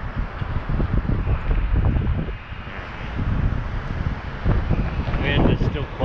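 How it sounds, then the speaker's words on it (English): Brisk wind gusting outdoors, buffeting the microphone in a broad rushing roar that rises and falls in surges, with faint talk underneath. "Wind is still quite brisk."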